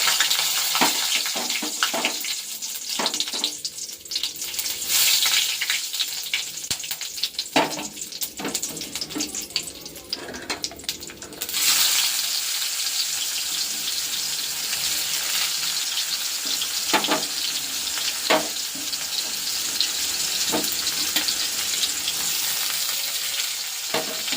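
Onions and nigella seeds fry in a blackened wok, a steady loud sizzle with crackling and stirring scrapes throughout, briefly thinning then swelling again, with no talking.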